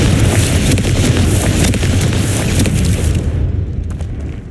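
Confringo blasting spell going off in the Hogwarts Legacy video game, a loud sustained booming explosion roar that rumbles for several seconds before tapering off, with no talking over it.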